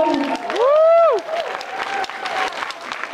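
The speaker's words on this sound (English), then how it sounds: "Round of applause, you like them?" Convention audience at an anime event applauds and cheers, with a whooping voice rising above the broadband clapping near the start, then a steady round of crowd applause continuing through the rest.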